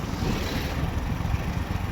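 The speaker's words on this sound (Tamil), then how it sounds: "காற்று உசு உசு உசு உசுன்னு அடிச்சுட்டே இருக்கும்" Wind blows hard near a dam along a winding road, a steady rushing roar with low rumbling gusts buffeting the microphone and no voices.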